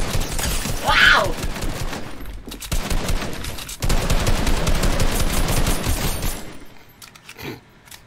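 An assault rifle fires in a video game in loud, dense bursts of rapid shots and crackling impacts that run for several seconds before fading to quieter mechanical clicks.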